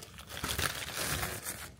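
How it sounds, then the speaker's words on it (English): Product packaging crinkles and rustles close by in a steady run of crackly handling noise lasting under two seconds, with no talking over it. "They have more packaging in here than what they really need."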